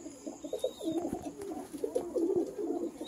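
Several fancy pigeons coo softly and repeatedly nearby, overlapping low throaty calls with a faint high chirp in the background.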